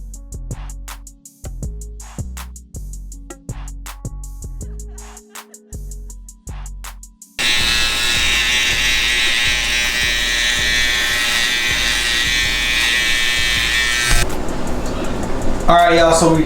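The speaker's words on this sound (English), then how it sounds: "we went over with our trimmers and we just basically got all the hair super short" Sparse clicks and thumps give way to a steady, loud electric trimmer buzz cutting hair short close up for several seconds, its tone shifting near the end.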